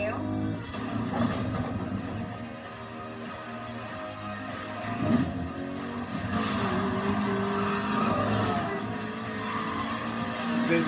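Cars in a PS4 racing game roar and rev across several seconds, with brief tire screeches and surges of engine noise under a busy mix of game sounds and occasional talk.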